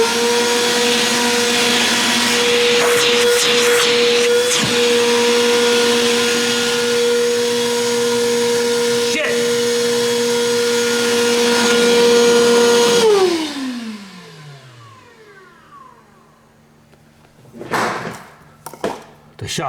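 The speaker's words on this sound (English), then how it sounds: "The shop vac scared him off" A shop vac runs with a loud steady whine and hum, then shuts off and winds down with a falling pitch, followed by a few clunks and bumps in the quiet.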